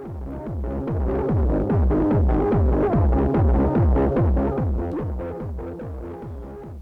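Eurodance track with a pulsing, throbbing bass line and steady beat, muffled as if playing from a car driving by, fairly loud and continuous with a slight fade toward the end.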